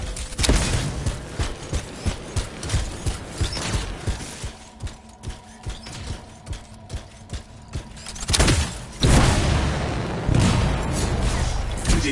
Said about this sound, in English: It'll be a contained explosion.